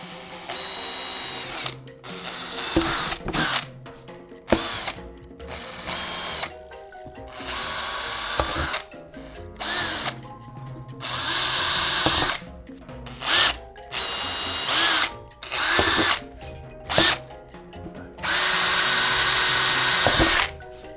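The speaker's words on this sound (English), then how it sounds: "So let's go ahead, get started and get these drilled out." A handheld power drill with a 2.5mm bit bores holes in an acrylic motherboard tray for a water-cooled PC build, loud whining bursts of varying length starting and stopping repeatedly with short quiet gaps between them.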